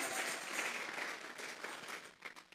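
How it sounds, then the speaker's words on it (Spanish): A church congregation applauds in sustained, fairly faint and distant clapping that lasts the whole moment. "Vamos a regalarle ofrendas de palmas al Dios de la gloria."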